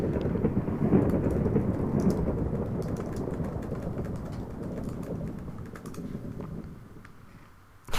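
Heavy rain pours steadily in a Minecraft thunderstorm, with low rumbling thunder rolling underneath and dense crackling drops throughout, easing slightly toward the end.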